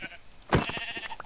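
Sheep bleating in a survival video game, a single loud, close bleat with a brief trailing call, heard alone with no talking.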